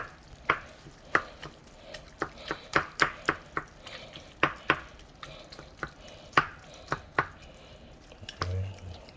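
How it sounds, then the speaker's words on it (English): Canned tomatoes are crushed by hand in a pot for a chunky meat sauce, with a run of wet squishing and squelching pops at an irregular pace, close and fairly loud. "lightly crush our tomatoes because I want it to stay chunky"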